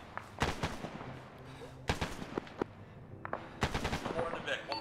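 Distant and nearby gunfire in Arma 3, a military video game, during a ground battle: scattered sharp cracks and short automatic bursts at uneven intervals, fairly quiet overall, with occasional voices nearby.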